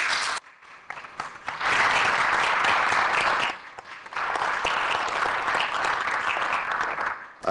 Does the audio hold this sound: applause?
yes